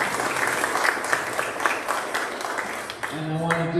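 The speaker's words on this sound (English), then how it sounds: "I think we can all agree with a round of applause." Audience at a community quality-of-life forum breaks into steady applause, a dense crowd clapping that fades toward the end as a voice begins speaking over the tail.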